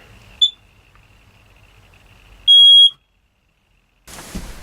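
Two sharp, high electronic beeps from a smoke detector being tested, a brief chirp and then a longer loud tone, followed by a short rustle.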